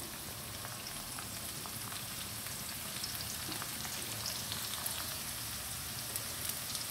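Mutton spring roll filling sizzles in a pan over a high flame, a steady, soft crackling hiss with faint scattered pops throughout, nothing else heard.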